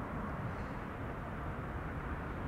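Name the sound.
twin-engine jet airliner passing overhead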